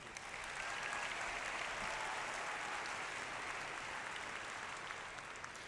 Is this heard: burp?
no